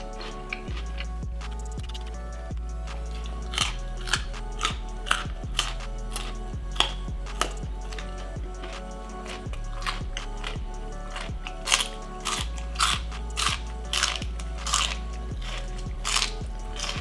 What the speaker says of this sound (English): so much chewing.